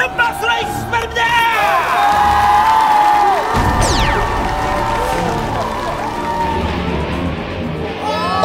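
A television studio audience cheers, whoops and claps loudly as Spider-Man enters, the crowd noise mixed with music, effect sweeps and an excited announcer's voice.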